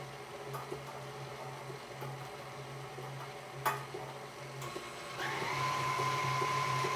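Egg yolks and vanilla extract being mixed for a caramel tart, with a steady whirring mixer hum that steps up louder and brighter near the end, plus occasional light clinks of a bowl.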